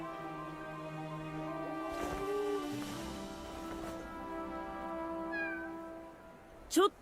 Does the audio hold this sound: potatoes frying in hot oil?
no